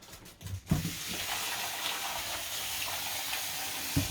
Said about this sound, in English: Gonna wash the green beans, and then put it to boil.